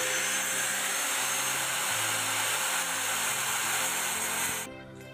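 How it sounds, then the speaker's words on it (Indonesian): An angle grinder cuts a metal piece lengthwise down the middle, a loud steady whine held close and constant for several seconds before the cut ends and the noise drops away. "Nah, kita belah di tengahnya seperti ini. Memakai gerinda juga"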